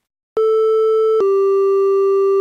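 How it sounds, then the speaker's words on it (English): A sustained synthesizer triangle wave begins abruptly after a short silence, a smooth, hollow tone with weaker upper harmonics, shifting down a small step midway, loud and with no voices. "And now the triangle."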